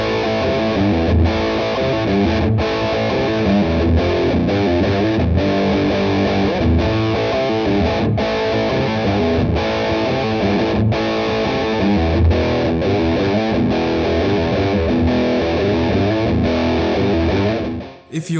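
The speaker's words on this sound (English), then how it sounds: "let's play some distortion sound" A distorted electric guitar, a Framus Panthera II Supreme, plays a continuous gritty riff with repeated sharp attacks, loud and up close, ending abruptly.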